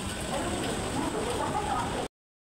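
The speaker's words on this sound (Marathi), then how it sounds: "किती पाऊस पडतोय." Heavy rain pours steadily at a railway station during a monsoon downpour, a dense, unbroken hiss that stays loud and even for about two seconds before cutting off abruptly.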